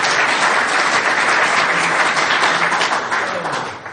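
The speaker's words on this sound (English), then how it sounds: "round of applause, round of applause." A roomful of people at a recovery retreat in Ellenton, Florida breaks into loud, dense applause that fades slightly toward the end.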